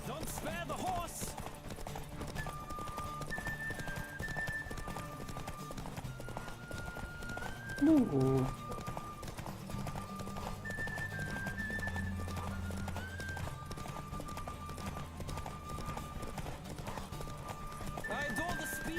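Hooves pound in a fast gallop during a horse race in The Witcher 3, continuous rhythmic clip-clop beneath music, with a short vocal exclamation and occasional neighs.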